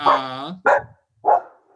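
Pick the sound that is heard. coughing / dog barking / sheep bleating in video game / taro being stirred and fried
dog barking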